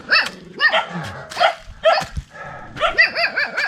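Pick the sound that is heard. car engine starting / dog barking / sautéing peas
dog barking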